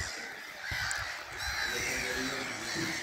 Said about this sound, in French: ce qu'on voit devant c'est des mouettes rieuses